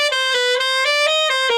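Alto saxophone plays a fast phrase at a slow tempo, a steady run of sustained, breathy, harmonically rich notes with small articulation breaks between them, close and loud with no talking.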